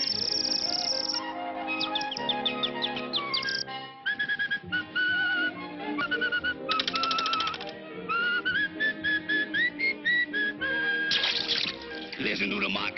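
Cartoon whistling from a classic Woody Woodpecker and Mighty Mouse short, a run of bright, warbling, birdlike whistled notes and trills in quick bursts mixed with musical accompaniment.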